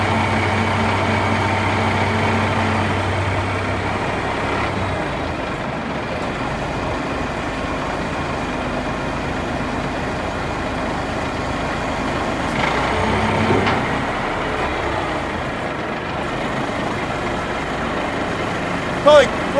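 A 1980 International crane truck driving slowly down the road, its engine rumbling steadily from inside the cab with a few louder surges and rattles, and a person speaking over it at times.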